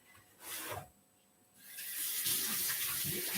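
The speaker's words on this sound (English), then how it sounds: "Just want to quickly wash my hands." Hands being washed under a running kitchen tap, with brief rubbing and splashing, a short pause, then a steady stream of water close by, with no talk.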